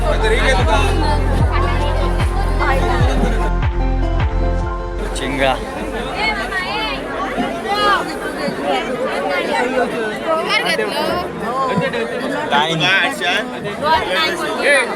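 Dense crowd chatter at the Malvan fish auction, with many voices talking and calling over one another at close range, loud and continuous, plus some rhythmic knocking near the start.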